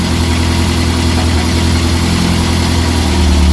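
The engine of a Reliant Supervan 3 runs loudly and steadily close by with a constant throbbing idle while someone tries to put it into gear. The level rises slightly at the end.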